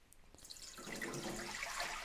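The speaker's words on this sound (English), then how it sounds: "Go ahead and get the water in there." Water poured into a pan set on a VESTA emergency indoor stove, a steady splashing pour that swells after a quiet start and runs loud and close for about two seconds, with no talking.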